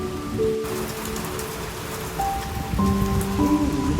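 Outdoor rainfall patters steadily throughout, growing a little louder near the end, joined by faint steady background hums, with nobody speaking.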